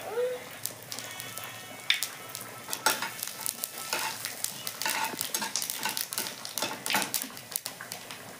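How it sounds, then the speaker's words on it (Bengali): Dried red chillies and nigella seeds frying in hot oil, a steady crackling sizzle with scattered pops and occasional utensil scrapes and stirring, fairly close and quiet. "শুকনো লঙ্কাটা কিছুটা ভাজিয়ে এখন দিয়ে দিচ্ছি"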